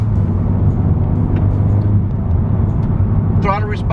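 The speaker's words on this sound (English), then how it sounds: "3rd gear, I'm gonna go down to 25 miles an hour, and 30 miles an hour, full throttle." Tuned Honda Civic Type R pulling hard at full throttle in third gear from about 25 mph, a steady loud engine and road rumble filling the cabin throughout, with a brief higher-pitched sound near the end.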